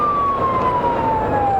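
Police car siren wailing during a highway patrol chase at about 100 miles an hour: a loud, steady siren tone slowly falling in pitch over engine and road noise.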